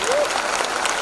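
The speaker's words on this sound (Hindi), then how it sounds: "ये हमारे डायरेक्टर्स के लिए ताली बजाइए प्लीज" An audience at a Modicare business presentation in Patna applauds the directors in a brief, loud burst of dense clapping.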